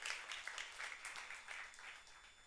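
Church congregation clapping during a youth sermon, a quick, dense patter of many hands that rises and thins over a couple of seconds, moderately loud with no talk on top.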